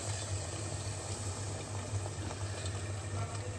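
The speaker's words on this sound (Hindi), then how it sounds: "चलिए फ्रेंड्स, ये तड़का डाल देते हैं इसके अंदर।" A steady, loud sizzle and bubbling hiss of a hot-oil tempering poured into a simmering dish, continuous throughout with no talking.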